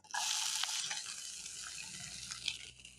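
Assorted peppers sizzling with softened onions in a pan for masala baked beans, a steady close frying hiss throughout with no talking.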